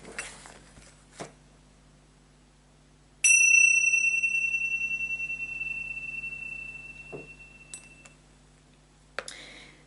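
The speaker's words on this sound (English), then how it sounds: "I will ring the bells at the start and the finish." A single meditation bell rings at the start of a session, a bright struck tone that sustains and slowly fades over several seconds in a quiet room, with soft clicks before and after.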